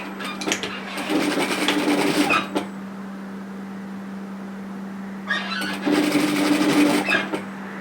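A sewing machine stitches around the collar of a bomber-style varsity jacket in two bursts of rapid whirring, separated by a pause where only a steady low electrical hum remains.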